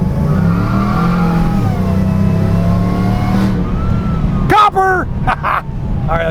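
A Chevrolet Malibu's engine revs loudly and close with a rising, then falling whine, followed by a sharp high-pitched squeal, with a voice speaking briefly over it.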